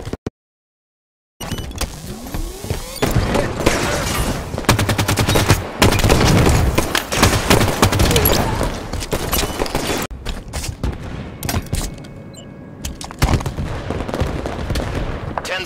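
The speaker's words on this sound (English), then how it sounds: "Tossing a nade! Hit." In an online shooter match, a tossed grenade and rapid gunfire fill the scene with dense, loud bursts of automatic fire and blasts that continue almost without pause after a brief silent start.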